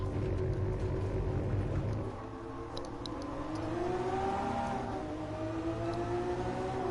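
Lamborghini Veneno engine in Gran Turismo Sport, a steady loud roar that drops in pitch around a shift or braking, then climbs again in rising harmonic sweeps as the car accelerates, continuous with no talk.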